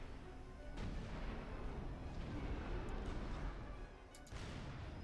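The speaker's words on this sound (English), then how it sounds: "Artillery changing targets on its own." Artillery fire from units in the strategy game Supreme Commander: Forged Alliance, a dense rumbling barrage of booms that sustains loud for several seconds and dips briefly near the end before resuming.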